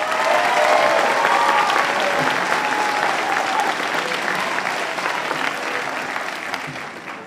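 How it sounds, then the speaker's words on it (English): An audience at a school holiday concert claps for a beginner concert band, with dense sustained applause that slowly fades, plus a few faint voices and whoops in the crowd. "So let's give them a round of applause."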